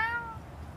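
A person imitates a cat with a single short, high meow that fades quickly, close and alone.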